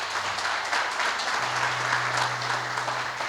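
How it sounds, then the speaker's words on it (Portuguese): A church congregation applauds strongly for the Lord during a Portuguese-language evening service, a steady dense wash of many hands clapping throughout, with a low sustained tone underneath. "eu quero que você aplauda bem forte o Senhor esta noite"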